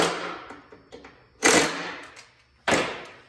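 Bearing retainer assembly on a Yeti Snow MX track being pre-torqued, a few light ratchet clicks followed by two sharp metallic bursts, close and distinct with no talk.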